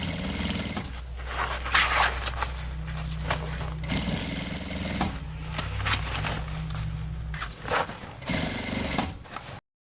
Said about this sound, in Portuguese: A gente vai virando a bolsa e vai costurando, deixando o forrinho todo pra dentro.